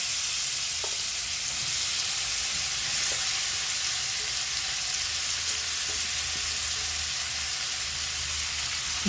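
Potatoes coated with chili powder, coriander powder and salt fry in hot oil with a steady, close, even sizzle that runs throughout with no voices.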